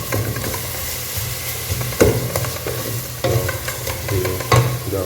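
Oil sizzling and crackling in a pan as mutton biryani cooking begins, a steady frying hiss with occasional louder pops and light stirring knocks, no voices.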